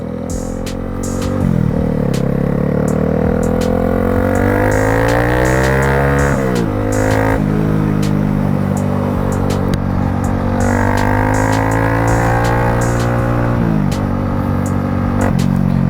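A Honda CB300R motorcycle engine revs up through rising pitch sweeps, dropping sharply at each gear change before climbing again, loud and close while riding with steady wind rush underneath.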